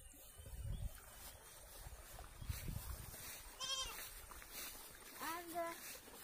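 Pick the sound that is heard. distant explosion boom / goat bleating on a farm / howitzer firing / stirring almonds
goat bleating on a farm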